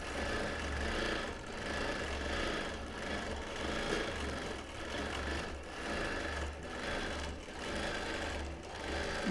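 A sewing machine quilting a pineapple block in solid fabrics runs in steady bursts of rapid stitching, its motor whirring close and even, with brief pauses between runs.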